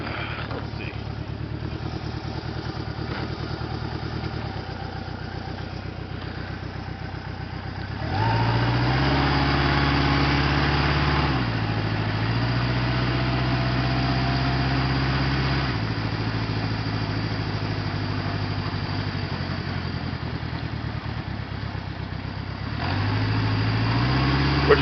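A 1977 Honda CB750A Hondamatic motorcycle engine runs steadily in low gear through a parking lot, its close, loud drone rising in pitch as it revs up and settling back down throughout.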